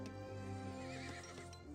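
A cavalry horse in the Age of Empires 3 strategy game gives a loud, wavering neigh over a steady battle drone, with hoof clip-clops near the end.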